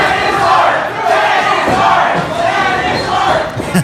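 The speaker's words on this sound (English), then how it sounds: "The crowd letting Jake Lang know what they believe is true art here in the middle of the ring" A boxing crowd shouts and jeers at fighter Jake Lang in the middle of the ring, a dense, loud roar of many voices that stays steady throughout with a few sharper swells.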